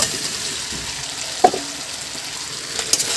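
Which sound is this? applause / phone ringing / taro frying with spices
taro frying with spices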